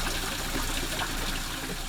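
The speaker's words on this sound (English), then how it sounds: "This is just rain runoff" Rain runoff pours steadily into a storm drain, a continuous broadband gush of flowing water with no breaks and no voices.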